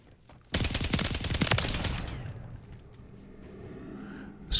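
An STG-44 fires in a video game: a loud, rapid automatic burst of close gunshots lasts over a second, then fades into a trailing echo and quiet background.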